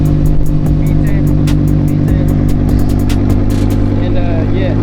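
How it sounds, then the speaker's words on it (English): Lamborghini Huracan Evo rear-wheel-drive V10 exhaust, a loud close rumbling idle with repeated sharp blips and revs that pop out in quick succession. "I don't know if you guys can hear me over this exhaust."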